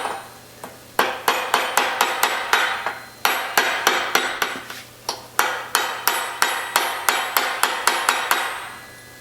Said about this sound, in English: I'm going to put my roll pin in just to lock that nut into place.